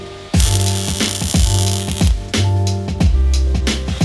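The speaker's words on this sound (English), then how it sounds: "I just didn't have a long enough wrench to get enough torque on these slightly rusted bolts." A ratcheting wrench clicks in repeated bursts while working slightly rusted bolts loose on a Mazda Miata, loud and close, with a rhythmic pawl chatter and no talk.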